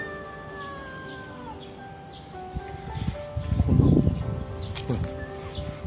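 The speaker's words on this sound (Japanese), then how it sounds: "ドラ猫やな、お前" A sick-looking stray cat meows repeatedly outdoors, a series of drawn-out, fairly close cries rising into a louder, harsher caterwaul toward the end.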